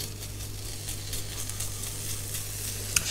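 Ingredients for a crustless quiche sizzle as they brown in a frying pan, a steady close crackle that carries on unbroken.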